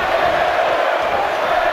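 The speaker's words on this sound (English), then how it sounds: "Listen to this crowd." Arena crowd noise from a WWE 2K18 Royal Rumble match on Nintendo Switch, a steady loud roar of cheering throughout with no pause.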